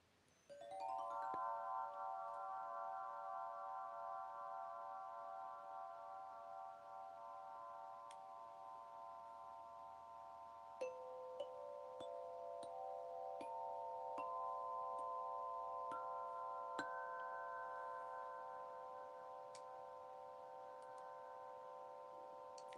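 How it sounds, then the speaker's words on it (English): Several hanging metal chimes ring out together in sustained, shimmering tones, with a few new strikes adding notes partway through as the sound slowly decays. "So these are hanging, what I call hanging chimes."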